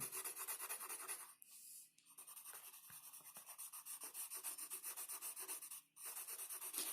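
Pencil shading strokes scratch rapidly across drawing paper in a steady back-and-forth rhythm, close and soft, stopping briefly twice.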